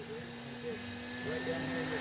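A Dynam Tiger Moth RC plane on its maiden flight is pushed to full speed, giving a steady, fairly faint motor drone with a whining tone that swells slightly toward the end.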